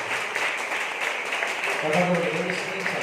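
A church congregation claps together during a Sunday service, a steady wash of applause that continues as a voice speaks over it.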